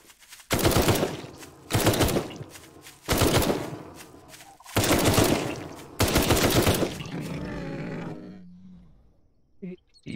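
Four loud bursts of rapid automatic rifle gunfire in the video game Night of the Dead, each lasting about a second with short pauses between, followed by a rumbling roar that fades into near silence.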